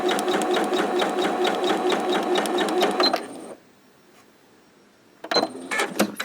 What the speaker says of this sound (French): Et on fait un point zigzag.